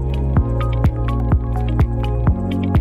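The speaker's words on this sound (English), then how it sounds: "Wash with soap water." A reusable cloth sanitary pad is washed in soapy water, making rhythmic wet squishes and drips about every half second, loud and close, with no voices.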